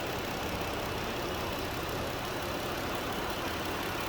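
A 2020 Jeep Gladiator Bandit Outlaw Edition 4x4 with a 3.6 liter V6 idles in a steady, even drone at moderate level, with no voices present.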